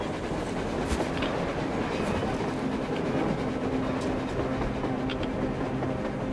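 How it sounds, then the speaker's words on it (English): A train rolls along on the surface in the video game Metro Exodus: a steady, loud rumble of railcars with rhythmic clickety-clack and a sustained low tonal hum, continuous throughout with no talking. "A train! A damn train on the surface!"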